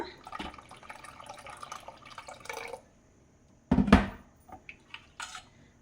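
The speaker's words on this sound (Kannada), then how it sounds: "ಈಗ ಇನ್ನು ಸ್ವಲ್ಪ ನೀರು ಸೇರಿಸ್ಕೊಳ್ಳೋಣ." Water splashes and trickles close by as it is poured into ragi dosa batter, a burst of pouring with a heavy splash near the end, followed by a few small drips.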